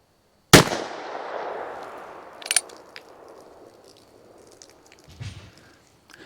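A Ruger Super Wrangler .22 Magnum revolver fires a sharp, loud shot that rings out and decays slowly, followed by a couple of fainter impact pops, with no talking.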